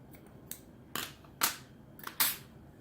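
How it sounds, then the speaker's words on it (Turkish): Scissors snip small leftover yarn threads during crochet work, giving several sharp, close clicks spaced irregularly in an otherwise quiet room. "Şu küçük ipleri de kesiyorum."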